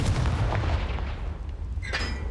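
A Confringo fire spell explodes in Hogwarts Legacy, a loud booming blast with a rumbling low end and a sharp crackling burst near the end, without talk.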